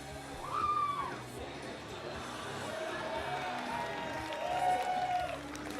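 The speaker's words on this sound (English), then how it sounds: "he had the Cathays Community Centre cheering for him" A community centre audience at a live pro wrestling show cheers and applauds, a moderate, somewhat distant crowd swell with scattered shouts and whistle-like calls under a faint voice.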